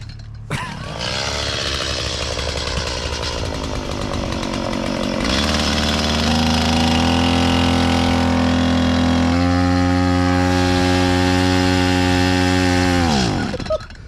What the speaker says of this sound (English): I told him to get his chainsaw out to cut this tree